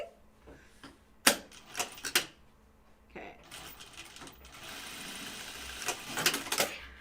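A sewing machine working on a Wallaby pattern garment, with a few clicks and knocks first, then a continuous close, rapid mechanical stitching hum that swells toward the end, no talk.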